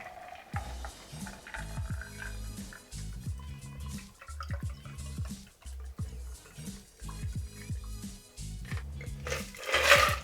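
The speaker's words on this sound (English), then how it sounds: "using our Hawthorne strainer, we're just going to strain this in so it's nice and pretty" Paloma cocktail poured through a Hawthorne strainer into a glass, a steady trickle broken by repeated drips and small ice knocks, close and clear, ending in a brighter splash.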